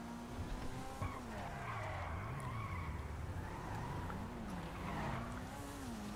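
A street race car in GTA Online skids through a turning maneuver, with continuous tire squeal over a revving, wavering engine drone that holds steady and close for several seconds.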